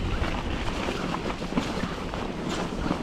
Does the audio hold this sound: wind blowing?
yes